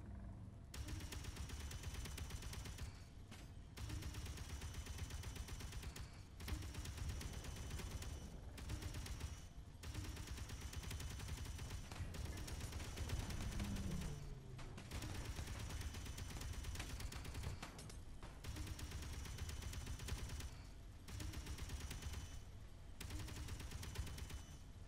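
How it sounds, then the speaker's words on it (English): Turrets in the Space Engineers video game fire in long sustained bursts, rapid gunfire chattering continuously with short gaps between volleys. "That's definitely turrets inside there. Ow. What are you doing? Stop shooting at me."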